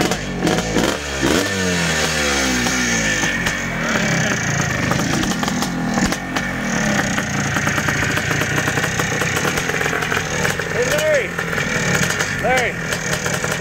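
A 1984 Yamaha YZ465 two-stroke dirt bike, freshly restored, runs loud and close, its engine revving and rising in pitch before settling into a rough idle, with people talking over it.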